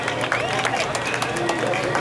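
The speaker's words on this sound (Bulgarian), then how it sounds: "Аплодисменти за Монстър!" A crowd at a 2015 BMW enthusiasts' rally claps and cheers for sponsor Monster, a thick, continuous roar of applause and shouting voices blended into a noisy outdoor hubbub.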